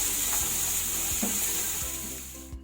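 Nuts frying in hot ghee make a loud, dense, continuous sizzle close by. A few soft knocks come from stirring, and the frying dies away abruptly at the end, with no talk.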